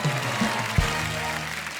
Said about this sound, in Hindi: एक बार हमारे तमाम मेहमानों के लिए जोरदार तालियां हो जाएं